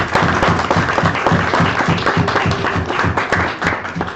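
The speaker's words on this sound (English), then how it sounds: "everybody give themselves a round of applause real quick" An audience at a comedy club anniversary show breaks into loud, close applause, many hands clapping in a dense, slightly rhythmic burst that sustains for a few seconds.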